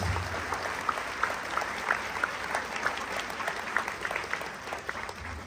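Congregation applauding during a healing and deliverance church service, a steady crowd of claps at moderate level, some single claps standing out, with faint voices mixed in.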